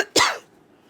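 One sharp, close cough that trails off quickly into quiet.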